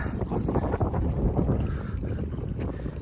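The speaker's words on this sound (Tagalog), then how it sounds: "malakas pa rin ang hangin at saka alon dito sa gitna" Strong, steady wind roaring across the microphone out on an inland sea while fishing, with the rumbling wash of waves underneath, loud and continuous.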